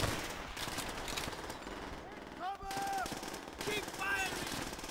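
An MG3 machine gun firing in a Call of Duty game, a dense continuous rattle of rapid automatic fire at close range, mixed with other battle noise and voices talking over it.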